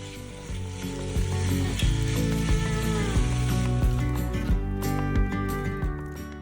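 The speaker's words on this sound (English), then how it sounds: "Once it's hot, we're going to be adding our meat to begin to braise it." Meat searing in hot tallow in a stew pot, a loud, steady close sizzle and spatter with faint clinks and scrapes of stirring throughout.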